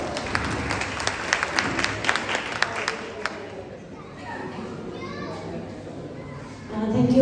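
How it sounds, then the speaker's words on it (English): Audience applause at a school event, a few seconds of clapping with chatter and children's voices mixed in, then fading into quieter murmur and talk. "Please welcome ma'am with a big round of applause."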